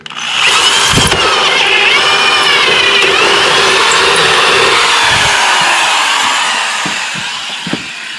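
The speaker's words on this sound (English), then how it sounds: "As you may have noticed, I switched drills, but I did that because both my batteries went dead on the cordless." Corded power drill drilling during steering work on a project car, a loud, steady whine running several seconds before winding down, with brief knocks near the end.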